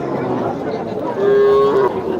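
A cow gives a single long, loud moo at a crowded border-area cattle market, rising over a dense murmur of crowd noise.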